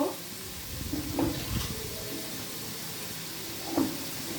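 Potatoes fry in hot oil for a vegetable mochar ghonto, giving a soft, steady sizzle with a few light stirring scrapes, fairly quiet and heard without talk.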